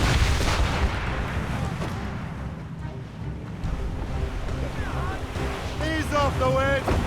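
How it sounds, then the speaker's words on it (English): Cannon fire booms through a naval battle in Assassin's Creed Rogue, dense low rumble with wind and surf under shouted crew voices, and brief whistling tones near the end. "They're firing, sir!"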